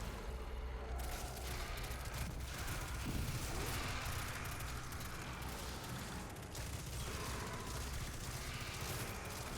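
Salvation's Grip, a stasis weapon in Destiny 2, fires in a dense barrage of crackling blasts and impacts, kept steady and loud throughout beneath a quiet game backdrop, with no talk.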